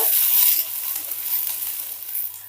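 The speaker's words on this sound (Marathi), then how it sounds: "त्याला परतून घेऊया मस्त लाल कलर येईल थोडेसे असे डाग पडेपर्यंत" Broad bean seeds fry in oil in a pan, making a close, steady sizzle that is loudest at the start and then settles into a softer, even crackle with no talk.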